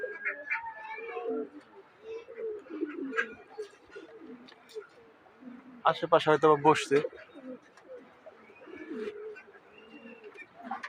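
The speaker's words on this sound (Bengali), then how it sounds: "এখন বন্ধুরা কবুতরগুলোকে খাবার দিব।" Domestic pigeons in a home loft give soft, repeated cooing calls, with a louder burst of cooing midway, while someone talks quietly nearby.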